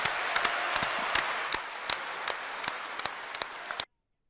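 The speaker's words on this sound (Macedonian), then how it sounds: "Веста беше пречекана со аплауз од страна на црковните лица и присутните граѓани на литургијата." Clergy and citizens at an Orthodox liturgy applaud, producing a dense, steady patter of many clapping hands with sharper individual claps on top, which then stops abruptly.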